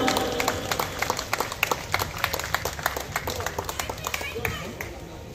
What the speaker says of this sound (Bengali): একটা জুড়ে হাততালি দিবেন মারিউস ডিকারের জন্য